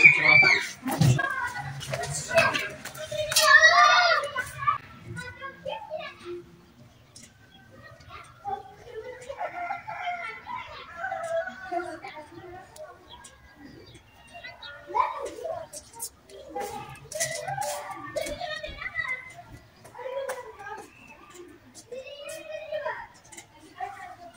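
Children's voices at play fill a home, chattering and calling out in bursts that rise and fall, loudest near the start and continuing busily throughout.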